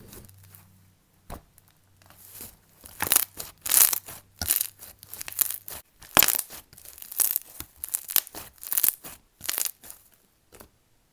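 Thin jelly slime being stretched and squished by hand, giving bursts of close crackly, squelchy popping in irregular clusters between brief quiet gaps.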